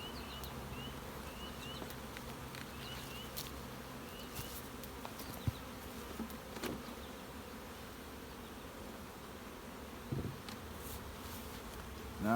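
Honeybees buzzing around hives being split and fitted with a double screen, a steady low insect drone filling the background throughout with scattered faint knocks and handling noises.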